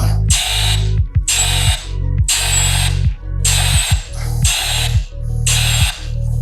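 Milwaukee M18 ONEDD2 cordless drill driver backing out a screw, giving six evenly spaced loud bursts of motor whir and ratcheting clutch chatter, each starting abruptly and cutting off, close up with no voices.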